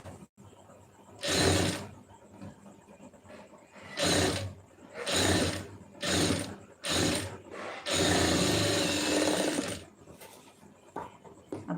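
Sewing machine stitching a lining blouse, running in several separate bursts of a few seconds each with pauses between, the longest run near the end; close and fairly loud, no talk.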